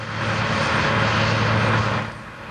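Airplane engines roar steadily at Cleveland Hopkins airport during the 1978 blizzard, a loud, continuous broadband drone that eases slightly toward the end.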